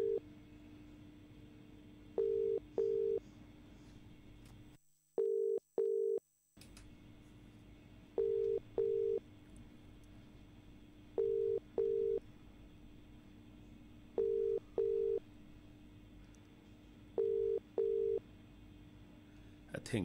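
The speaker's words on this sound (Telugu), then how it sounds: "మీరు ఫోన్ లిఫ్ట్ చేయాలి." A telephone call on a Telugu NRI radio show rings unanswered: paired ringback tones repeat steadily about every three seconds over a low hum, with one short silent gap partway through.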